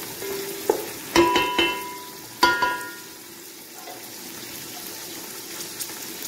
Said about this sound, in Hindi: 3 से 4 मिनट तक हम मटर को इसमें फ्राई करेंगे अच्छे तरीके से।